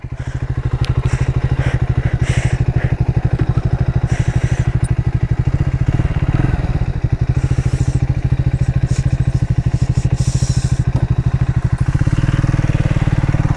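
A Triumph 400 motorcycle ridden at steady speed, its engine a loud, continuous close-up drone with a rapid pulsing beat, plus occasional wind buffeting and brief rattles throughout.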